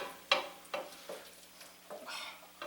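A spoon stirring refried beans in a pan on the stove: a few soft scrapes and taps spaced irregularly, with a faint sizzle, quiet and close.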